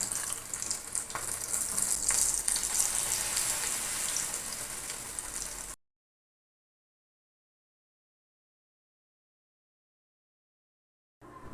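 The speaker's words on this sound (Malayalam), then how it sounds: "ഇതിലോട്ട് ഇട്ട് കൊടുത്തതിന് ശേഷം മീഡിയം ഫ്ലെയിമിലോട്ട് ആക്കിയിട്ട് വേണം കേട്ടോ ഫ്രൈ ചെയ്തെടുക്കാൻ" Masala bonda frying in hot oil, a dense, steady crackling sizzle close by that cuts out abruptly midway, leaving silence before the sizzle returns for a moment at the end.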